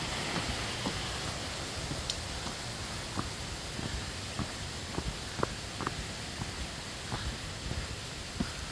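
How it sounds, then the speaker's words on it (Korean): Water flows beside a mountain trail on Gariwangsan as a soft, constant rushing wash. Faint footstep-like ticks sit lightly on top of it. "와, 물소리 좋다."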